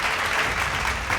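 Strong applause from a business conclave audience welcoming a minister, a short, dense, steady burst of many people clapping without speech over it.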